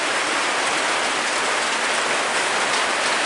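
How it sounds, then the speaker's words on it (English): Heavy rain pours outside in a dense, unbroken hiss that stays loud and steady throughout, with no voices. "it is raining like hell out there."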